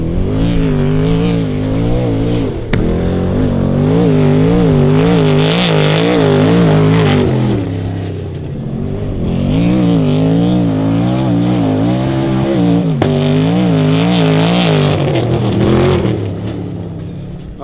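Off-road trucks roar over whoops during testing, engines revving and surging in repeated waves as they pass, loud and close with rising and falling pitch.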